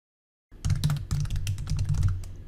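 Fingers type quickly on a computer keyboard to name a new desktop folder. After a moment of silence comes a steady, close run of clicky keystrokes with no talking.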